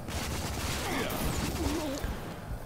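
Gunfire bursts in the video game Rage, rapid shots rattling over dense game noise and a sweeping effect, loud and continuous across a short span.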